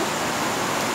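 Swollen Arrudas river after heavy rain, a dense, steady broadband roar of rushing floodwater filling the whole second with no break or voice.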